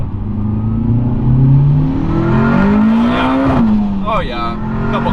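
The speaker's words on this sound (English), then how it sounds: "you hear the VTEC?" Turbocharged Acura RSX with a K20 engine revving hard as VTEC engages, a loud close engine note rising in pitch with turbo whistle and exhaust cracks, with voices talking alongside.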